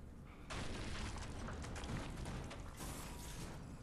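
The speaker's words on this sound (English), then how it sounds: "But we've got the explosion." An explosion in the video game The Surge bursts in suddenly as a rough, roaring blast, then rumbles and crackles on at steady loudness with mechanical rattling for several seconds.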